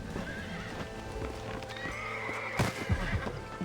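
A horse in the video game Red Dead Redemption whinnies and clip-clops along, steady hoofbeats under a brief neigh, with a louder burst of hooves near the end, fairly close.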